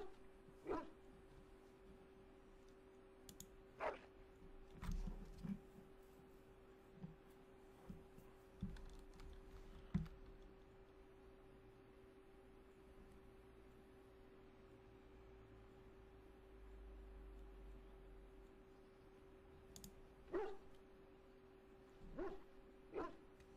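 A dog in the video game Dragon Age: Origins gives scattered short barks and yips, faint and sporadic, alongside keyboard clicking.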